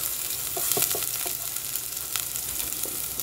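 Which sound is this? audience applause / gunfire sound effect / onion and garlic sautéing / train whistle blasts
onion and garlic sautéing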